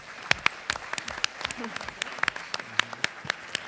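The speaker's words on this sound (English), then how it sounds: "Please give them a round of applause" A sparse audience round of applause at a senior summit event, scattered distinct claps near and far, uneven and fairly light, with some speech mixed in.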